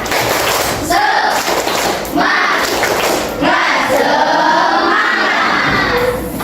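A classroom of Indonesian students performs the tepuk semangat spirit clap, loud rhythmic bursts of group clapping and thumps mixed with shouted chanting voices, close and energetic.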